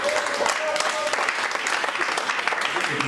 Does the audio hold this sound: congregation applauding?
yes